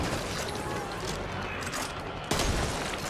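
Dense, continuous gunfire from the Back 4 Blood video game plays throughout, with loud, layered shots and booms that rise sharply partway through.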